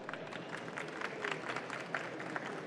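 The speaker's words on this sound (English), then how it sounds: "So a round of applause for her." Short burst of audience applause at a conference Q&A session about Office 365 Groups, a moderate, uneven patter of claps lasting a few seconds.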